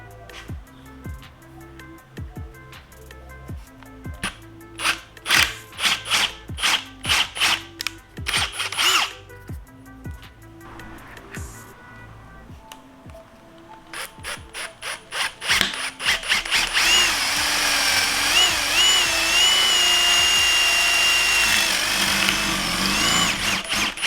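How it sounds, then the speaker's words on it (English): A power drill bores a hole for a 5th Gen Ram taillight fitted on a 4th Gen Ram, first in short repeated bursts and then in a long sustained whine with grinding, loud and close. "Now we just got to drill this thing out."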